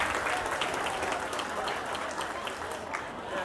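Audience applause at a college staff day gathering, a steady wash of many hands clapping in a large room, moderately loud and sustained throughout the short stretch.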